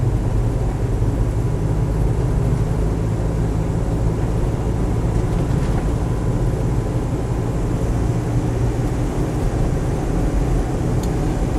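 A Land Rover 110 hardtop with a 2.5 turbo diesel engine on the move, giving a loud, steady low engine drone and road rumble inside the cab, continuous and without voices.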